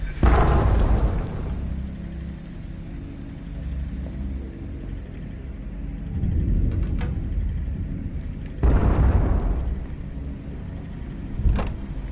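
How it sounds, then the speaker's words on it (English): Explosions in the horror video game Amnesia: A Machine for Pigs, set in a burning London: deep booming rumbles swell and fade in two or three waves, with distant crackling and bursts over a continuous low roar. "so what's with all the explosions?"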